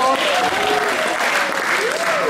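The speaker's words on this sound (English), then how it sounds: "A big applause." Loud, dense applause from a crowd at a charity event, sustained and steady throughout, with voices mixed in over the clapping.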